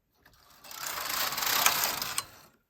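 A Brother SK150 bulky knitting machine carriage sweeps across a row, a continuous mechanical whirring and ratcheting clatter that builds and ends with a short click, close and alone.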